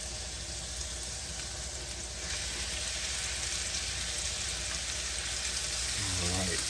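Shrimp sizzle in a hot buttered pan, making a steady, moderate frying hiss that runs throughout with a brief low clunk near the end.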